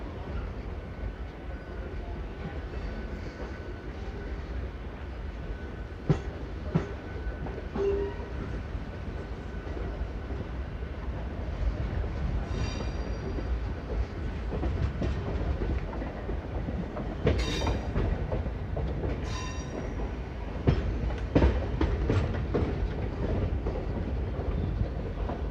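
An Indian Railways Hosur MEMU train rumbles steadily as it switches tracks onto the Hosur line, wheels clattering over points in irregular clickety-clack bursts under a constant loud roar, with a faint horn heard briefly.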